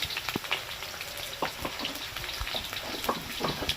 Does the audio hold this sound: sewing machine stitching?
no